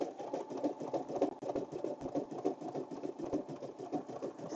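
An embroidery machine stitches steadily, a fast, even mechanical pulsing with a low motor hum, close and alone.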